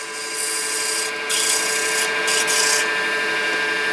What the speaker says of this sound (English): Now we can go ahead and sand that a little bit while we're here.